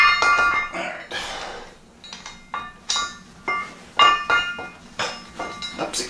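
A hammer strikes a metal bolt's thread about eight times in an uneven rhythm, each hit ringing out sharp and metallic with a short clinking tail.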